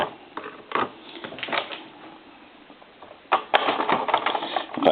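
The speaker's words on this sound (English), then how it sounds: "So they got quite a few screws here. So let's just try to remove these real quick." Small screws being backed out of a Coca-Cola polar bear animated telephone during repair, heard as close, rapid whirring and ratcheting bursts, pausing briefly before a busier final stretch.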